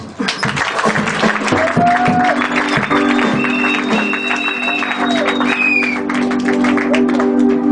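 Sustained applause rises from a church congregation, a continuous wash of clapping mixed with singing or calling voices and held musical tones.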